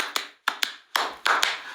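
Several light hand claps in pairs, close and crisp, with short silent gaps between them.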